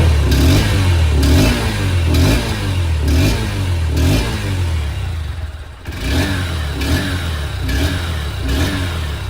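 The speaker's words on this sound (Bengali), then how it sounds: "চলুন বাইকটির এক্সস্ট সাউন্ড একবার শোনা যাক" A 2024 Honda Hornet 2.0 Repsol Edition motorcycle engine revs repeatedly through its exhaust, close and loud, rising and falling in regular throttle blips about once a second, with a brief dip near the middle and no talking.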